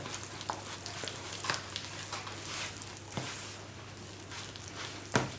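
Açma dough being stirred by hand in a bowl after warm milk is added, giving a steady, close wet scraping and slapping texture with a few sharper knocks and no talking.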